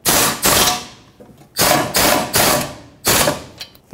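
Caliper bracket bolts being snugged up on a 2011-2018 Volvo S60 rear brake, heard as four close, loud bursts of ratcheting tool noise separated by short pauses.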